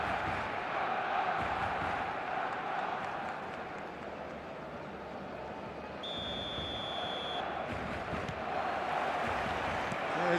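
A large stadium crowd in the eFootball video game roars in a steady, dense wash throughout, a broad sustained cheer with no single voice standing out.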